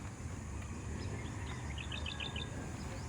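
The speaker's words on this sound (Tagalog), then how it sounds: "Ibon." Birds chirp outdoors in a scenic rural spot at Mangantila, Baras, Rizal, with a short run of bright, quick tweets partway through, faint over a steady rumbling background.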